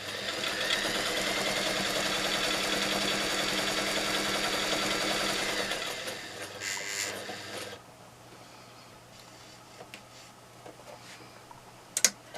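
A sewing machine stitches a canning mat with a fast, steady mechanical whir and ticking for about six seconds, then stops, leaving quiet handling noises and a sharp click near the end.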